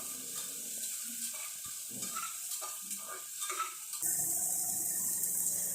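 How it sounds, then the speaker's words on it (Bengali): Vegetables are stirred and sautéed in oil in a pressure cooker, with a low sizzle under scraping stir strokes that gives way to a louder, steadier hiss near the end. "এবার আমি এর মধ্যে সমস্ত সবজিগুলো দিয়ে দেবো, দিয়ে ভালোভাবে নাড়াচাড়া করে নেব।"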